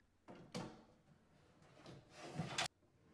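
A wooden drawer slides along with a wooden rub, then glides shut with a gentle, cushioned soft-close near the end.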